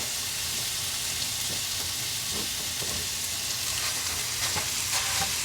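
Steady loud sizzle of food browning in a hot cast iron skillet, a dense continuous frying hiss with occasional faint stirring taps.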